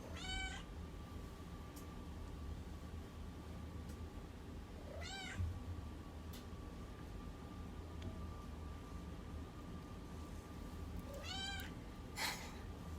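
A cat meows three times at spaced intervals, each a rising, drawn-out cry, over a steady low hum and faint background noise.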